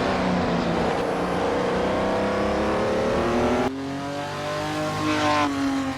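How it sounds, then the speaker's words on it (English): A 1967 330 P4 race car with 450 horsepower accelerating hard, its engine revving up through rising tones, dropping briefly at a gear change and then climbing again, loud and close. "the 330 P4 just begs for throttle"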